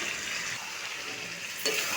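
Fried potatoes and raw jackfruit go into cooked-down spice paste in a pan, giving a steady, close sizzle with a sharp stirring clatter near the end.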